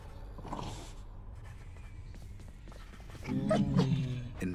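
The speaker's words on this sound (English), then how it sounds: "Infernal watchdog Cerberus regards the underworld prince with mixed emotions, from purest joy to deepest melancholy." Cerberus, the underworld watchdog in the video game Hades, gives low growls and whimpering dog sounds, ending in a louder, harmonic bark-like cry near the close over a steady game backdrop.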